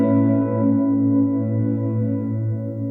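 Hologram Microcosm effect in Logic Pro X with its output modulated by a MIDI filter between 50% and 100%, giving a sustained, shimmering layered chord drone that holds steady and loud for about three seconds.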